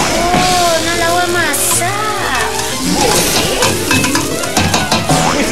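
Loud sizzling and frying in a pan during pre-dawn sahur cooking, a steady hiss with clattering stirring, while voices talk and exclaim over the top throughout.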